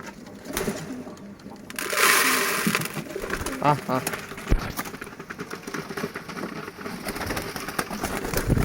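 Domestic pigeons coo softly in short bubbling calls at a pigeon farm, with rustling and a person speaking nearby.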